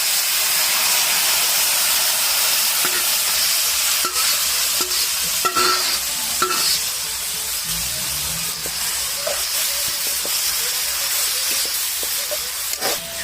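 Leafy greens fry in oil with onion and cumin during Bengali village cooking, making a steady, close sizzling hiss broken by occasional sharp clinks and scrapes of stirring.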